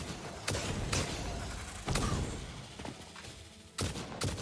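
A wound-up rifle in the factory-building game Satisfactory fires in sharp, loud, close bursts, with several distinct shots spaced unevenly amid a steady background hum.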